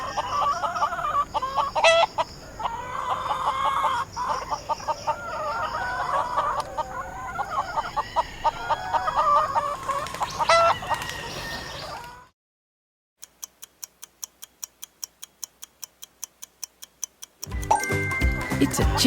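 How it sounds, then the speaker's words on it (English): A chicken clucks and squawks busily up close for about twelve seconds, then falls silent. After a pause a clock ticks steadily, and a short burst of sound follows at the very end. "It's a chicken."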